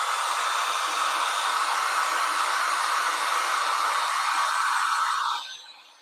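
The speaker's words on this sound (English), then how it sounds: "So if you just take your heat gun" A heat gun blows steadily on a sticker stuck to a painting canvas, a loud continuous airy whoosh held close for about five seconds, then it fades away as the gun is switched off.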